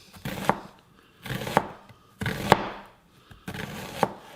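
A knife chops through half a white onion on a board in four separate bursts of quick, crisp cuts, close and clear with short pauses between them.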